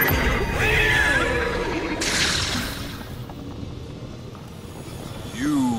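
A horse neighs loudly in the Destiny 2 Dares of Eternity game, with a long whinny near the start and a second cry around two seconds. A deep, dense background of game sound runs underneath throughout.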